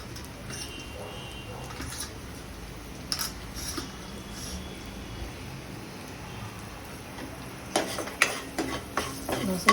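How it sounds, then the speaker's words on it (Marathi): Garlic cloves and asafoetida frying in hot oil as the tempering for a bhendi batata sabji, a continuous close sizzle with scattered scraping stirs that grow louder and busier toward the end. "आठ ते दहा लसणाच्या पाकळ्या टाकायच्या छान खरपूस भाजून घ्यायचं आहे थोडं हिंग टाकायचं आहे"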